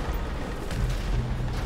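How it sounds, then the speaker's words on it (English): An explosion in the video game GTA Online rumbles as a low, muffled boom that swells midway and rolls on, moderately loud, with no talk over it. "I'm avoiding the explosion so far though."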